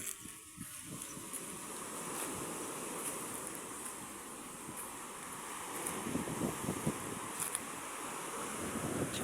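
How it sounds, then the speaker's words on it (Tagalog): Strong wind gusts buffet the microphone at the seaside near boats, a steady broadband roar with swelling gusts throughout, and no speech. "Lakas ng hangin, no?"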